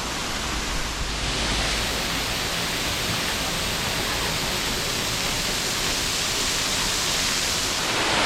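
Rushing waterfall and river flowing below a swaying swinging bridge at Xcaret Park in Mexico, a dense, steady roar of water holding evenly all the way through with no voices.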